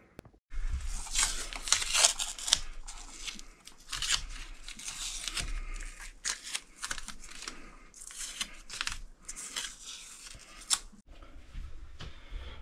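Masking tape peeled off the fretboard of a Dean ML-style replica electric guitar, a run of crisp ripping and crackling strips close by, broken by short pauses, with no talking.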